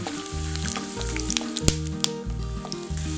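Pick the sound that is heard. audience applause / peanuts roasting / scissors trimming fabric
peanuts roasting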